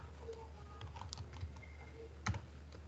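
Soft, close keystrokes tap out Python code on a computer keyboard in an irregular patter, one sharper clack near the end, all quiet and without speech.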